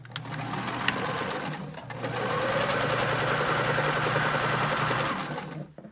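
Sewing machine stitching a curved face mask seam with a 3/8 inch allowance, a fast steady whirring run of needle strokes with a brief pause early on, close and moderately loud.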